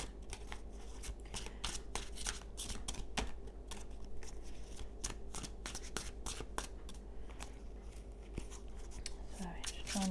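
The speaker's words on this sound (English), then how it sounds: "Trying to shuffle, doesn't want to" Tarot cards are shuffled in quick, crisp riffles and taps, a close, dry rustling that repeats many times, with faint speech underneath.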